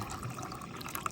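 Water poured to make oatmeal at a campsite, a steady low liquid wash with a faint trickling texture and a few brief brighter splashes near the end, fairly quiet and without speech.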